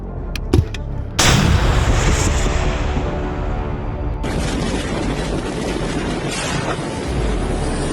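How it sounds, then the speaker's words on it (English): An artillery piece fires during fighting around a town in Donetsk: a couple of sharp clicks, then a loud booming blast followed by a long rumbling roar and a second surge of noise. "Постріл."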